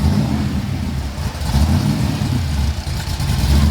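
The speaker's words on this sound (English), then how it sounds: "That's a full-blown race car right there." A 1965 Plymouth Belvedere 426 HEMI Super Stock race car engine rumbles and revs steadily at close range, a deep continuous drone with slight swells, no talking over it.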